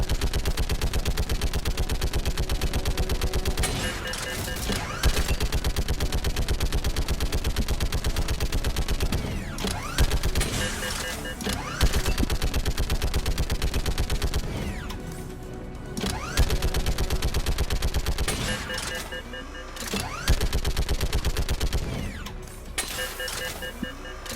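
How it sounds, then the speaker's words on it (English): Sustained rapid gunfire in the video game Mass Effect 3, loud and near, long automatic bursts broken by brief pauses, with a few heavier impacts mixed into the steady rattle. "Now we start shooting."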